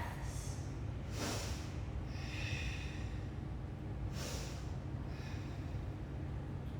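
Slow, audible breaths come in and out during a chair pose twist in a power flow yoga class, with a few long whooshing inhales and exhales over a steady low background hum.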